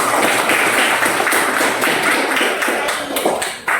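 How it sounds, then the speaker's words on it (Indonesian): A classroom group claps together in a loud, dense burst of rapid overlapping claps that stays steady for several seconds and then tapers off. "Beri tepuk tangan dulu semua"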